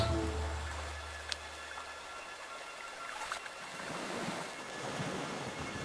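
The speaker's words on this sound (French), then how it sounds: "On dirait qu'une crue arrive très vite." Rushing floodwater from a swelling river surges in a broad, steady roar, rising and thickening toward the end, with gusty wind-like turbulence and no voices.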